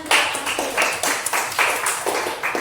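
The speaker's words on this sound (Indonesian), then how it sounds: "tepuk tangan untuk kalian" Hands clapping for a student group that has just finished presenting in a classroom, a short burst of fairly loud, close claps with an uneven rhythm.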